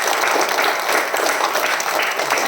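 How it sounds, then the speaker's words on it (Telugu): Audience at an Independence Day flag hoisting event in Nellore clapping loudly, a dense, steady burst of applause from many hands at close range with no pause. "గట్టిగా మీకు మీరు క్లాప్స్ కొట్టుకోండి సూపర్గా."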